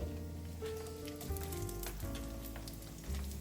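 Chopped onions sizzle in a pan while a Bengali duck curry cooks, making a continuous crackling hiss with faint pops under a low steady background tone, close and without talk.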